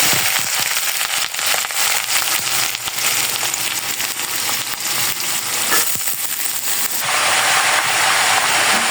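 Cumin and cabbage fry loudly in hot oil in a pan, giving a dense, continuous crackling sizzle that grows even brighter near the end, with no talking.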